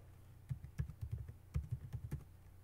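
A password being typed on a computer keyboard during a glftpd server setup, a quick run of about a dozen soft, close key clicks in an uneven rhythm, no talking.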